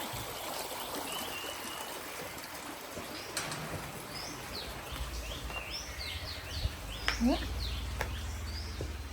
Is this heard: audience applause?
no